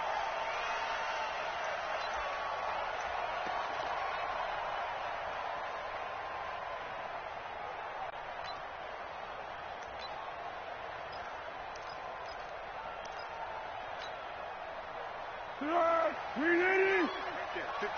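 Stadium crowd murmuring and cheering before a Minnesota Vikings vs Chicago Bears NFL game, a steady broad roar throughout with a brief louder swell near the end.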